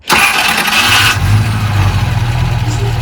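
A warm Rover SD1 V8 engine cranks briefly with a high whirring starter, then catches and settles into a loud, deep, rumbling burble at idle.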